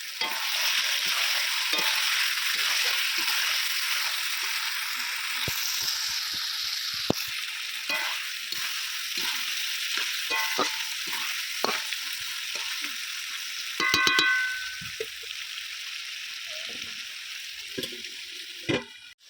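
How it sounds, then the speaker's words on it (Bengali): Chicken curry with potatoes hisses in hot oil as it is sautéed in a pan, a constant close sizzle broken by repeated scraping stirs and a clatter near the end. "খুব ভালো করে কষিয়ে নেবো আর মাঝে মাঝে চাপা খুলে মেরে নেবো যাতে না তলাতে লেগে যায়"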